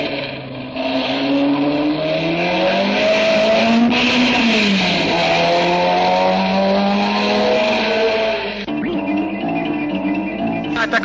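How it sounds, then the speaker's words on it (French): Racing cars lapping the Charade circuit, a loud, close engine roar rising and falling in pitch with gear changes as a car accelerates past, no voices. "Il est en train de réaliser le meilleur tour en bouclant les 8 km en 4 minutes à 120 de moyenne."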